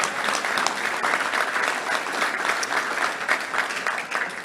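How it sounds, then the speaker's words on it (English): Audience applause fills a Touchdown Club luncheon in Little Rock, a steady, dense clapping from a large room that holds evenly loud for several seconds with no talk over it. "Let's give them all a round of applause."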